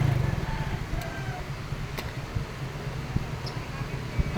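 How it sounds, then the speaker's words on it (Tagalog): Noisy car muffler with a loose, unrepaired cover while driving on a morning road, a continuous low rumbling drone with small rattles and clicks throughout. "Ang ingay na ating muffler, no?"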